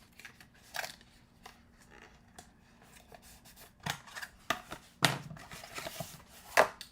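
Cardboard popcorn box being folded and creased by hand, with a series of sharp crinkles and snaps, close and fairly loud, in irregular bursts with no talking.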